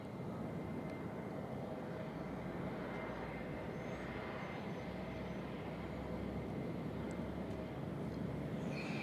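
An airplane flying at Nashville International Airport, a steady broad roar of engines that stays at an even level throughout, heard from some distance with no talking.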